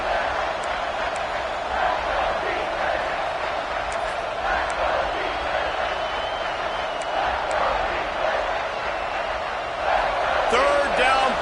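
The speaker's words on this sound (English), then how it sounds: "this crowd is at fever pitch" A dense, steady roar of a packed stadium crowd fills a college football video game on a third down in the red zone, swelling slightly near the end while a commentator talks over it.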